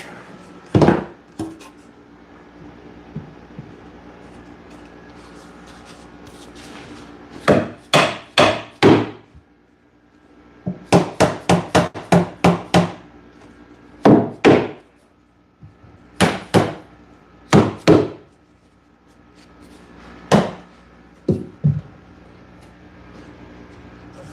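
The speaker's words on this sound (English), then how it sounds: "This one's going to need a hammer." A hammer strikes wood during furniture assembly in a shop, loud close blows in quick bursts of three to six hits separated by pauses, some single knocks, with quiet gaps between.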